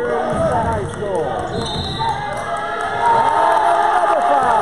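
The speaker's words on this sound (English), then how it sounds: "And the crowd is going wild here in the high school." Crowd cheering and shouting fills a high school basketball game crowd, loud and sustained with ball bounces and a commentator's voice mixed in throughout.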